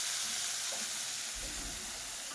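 Tomato frying in oil tempered with mustard seeds and phoron spices in a home kitchen, a steady broad sizzle with soft stirring underneath, constant and close with no talk.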